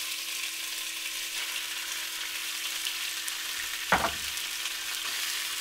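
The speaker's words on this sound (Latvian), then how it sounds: "Ļoti karstā katlā. Es pat gribētu teikt, apsvilinam gaļu." Meat searing in a very hot pot: a steady bright sizzle runs throughout, with a single brief clatter partway through and no talking.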